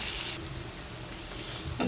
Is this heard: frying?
yes